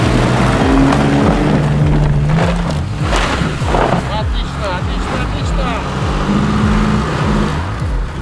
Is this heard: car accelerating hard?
yes